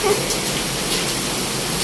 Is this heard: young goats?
no